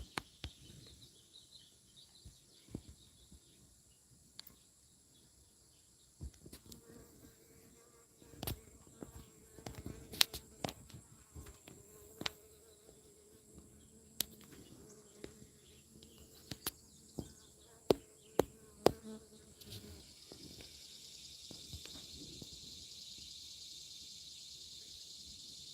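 A cicada buzzes outdoors near a garden with tomato plants and a hummingbird feeder, a faint steady high drone running throughout under scattered clicks and soft background noise.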